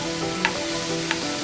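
Garlic and asafoetida tempering sizzles in hot oil in a pan, a steady close frying hiss with two brief sharper crackles and no voices.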